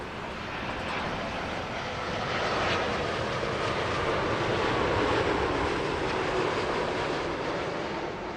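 United Boeing 787-9 Dreamliner airliner at Heathrow Airport, a loud broadband engine roar that swells and then holds steady as the jet passes nearby.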